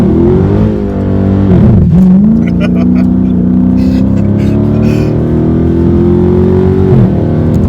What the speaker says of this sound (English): You're gonna do a burnout, aren't you?